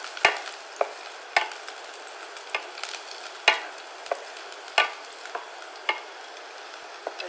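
Garlic sautéing in oil in a pan as a grain-free pulao is prepared: a soft, steady sizzle under evenly spaced sharp clinks of a spatula stirring, with no talking.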